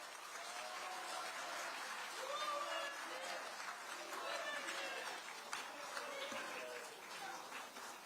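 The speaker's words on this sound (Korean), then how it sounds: "힘내시라고 큰 박수 한번 부탁드립니다." A crowd at a National Assembly rally claps in sustained applause, fairly distant and steady, with a voice speaking over it.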